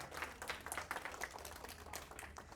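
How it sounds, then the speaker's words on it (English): A round of applause for a woman being thanked at a gathering, with steady clapping from many hands throughout, moderately loud and continuous. "Give her a round of applause too."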